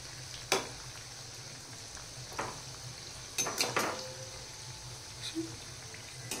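Onion-potato bhaji fry in very hot oil, giving a faint, steady sizzle. A few sharp clinks and scrapes of a utensil against the pan break through at intervals.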